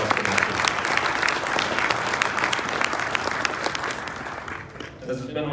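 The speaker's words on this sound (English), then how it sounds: "Round of applause for them." Audience applause at a fire academy recruit graduation ceremony, sustained dense clapping from a large crowd that carries on steadily and then thins out near the end.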